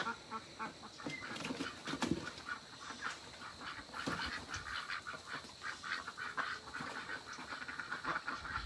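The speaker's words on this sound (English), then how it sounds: "Oh, the duckies are celebrating life this morning." Ducks quacking outdoors in the morning, a scattered chorus of repeated calls at moderate distance, fairly quiet and continuous throughout.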